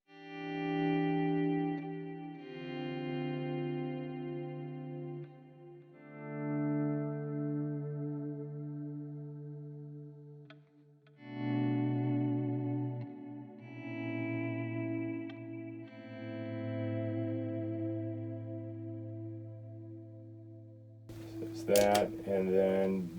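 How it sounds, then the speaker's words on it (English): Sustained guitar notes through a Line 6 Helix Helisphere delay-reverb effect and tube amp wash into each other with lush, shimmering delay and reverb, forming slow ambient pads with a brief brighter strum near the end. "This is one called a Helisphere, so it's kind of an ethereal type delay reverb mix."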